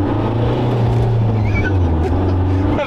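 An Iveco van nearly seven metres long runs at full throttle, its engine giving a steady, heavy, tractor-like drone close by, with a faint voice over it.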